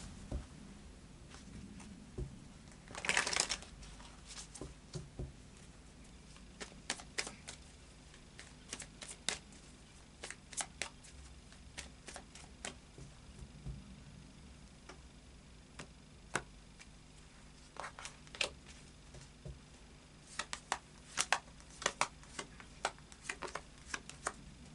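Tarot cards are shuffled and laid on a table, making faint, sparse paper taps and soft riffles scattered over a quiet background, with a few brief louder clusters.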